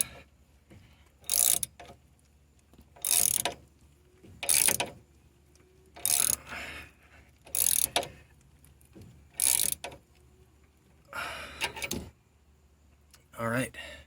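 Wrench tightening a bolt on a front shock of a 1998-2010 Ford Ranger, heard as bursts of rapid ratcheting clicks repeated about eight times with short pauses between them.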